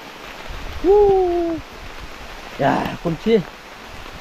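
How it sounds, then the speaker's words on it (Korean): Rain falls steadily in a high mountain forest beside a patch of wild greens, a soft even hiss that continues throughout while someone speaks briefly over it. "야 빗소리 비 제법 많이 오는데요."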